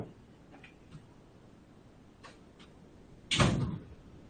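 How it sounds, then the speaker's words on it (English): A door is pushed shut in a quiet room, a few faint taps and creaks leading to one firm, close thud near the end. "Let me close my door."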